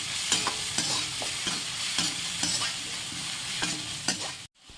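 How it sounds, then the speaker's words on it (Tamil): Onions and green chillies sautéing in a pan, continuous sizzling crackle with several distinct scraping stirs spaced through the few seconds, close and clear, ending abruptly. "இப்போ பச்சை மிளகா 4, வெங்காயத்துக்குள்ளே வதங்கிறதுக்கு பச்சை மிளகாவும் போடும்"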